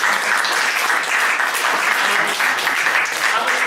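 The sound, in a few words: audience applause after a sound art performance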